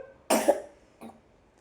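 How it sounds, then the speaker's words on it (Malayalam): A single sharp cough, then a softer short one a moment later, close by in a quiet room. "ചുമ്മാ അങ്ങ് ചുമക്കുവാണേ"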